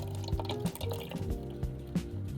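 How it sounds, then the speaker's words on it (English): Twenty-five millilitres of water poured into a beaker in a school chemistry lab, a soft irregular trickle with small splashes and drips over a low background hum. "So I will take my 25 ml of water and I will pour inside."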